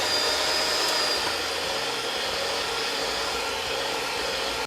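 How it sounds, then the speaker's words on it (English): An electric mixer runs on low speed, blending oatmeal and fruit cookie bar dough. A steady, close whirring motor drone holds evenly and then cuts off abruptly at the very end, with no voices. "And then I'll mix this together on low speed."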